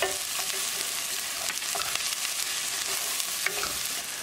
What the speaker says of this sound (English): mix it well and keep cooking until the onions are nicely brown